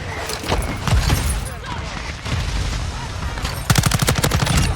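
Gunfire in Call of Duty: Modern Warfare II starts with scattered loud shots, then ends in a rapid, close automatic burst, with someone talking over the shooting.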